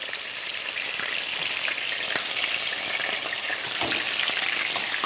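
Meat frying in a pan with basil-flavoured olive oil, a steady close crackling sizzle with scattered sharp pops and a few faint stirring clicks, no voices over it.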